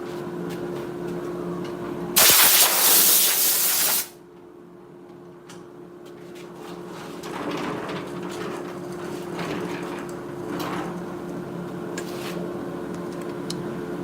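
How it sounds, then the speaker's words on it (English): A knife grinder in a knife-finishing workshop: a loud harsh burst of grinding for about two seconds, then a steady mechanical hum with fainter scraping contacts and a continuous tonal drone from the running machine. "now let's go to the other grinder"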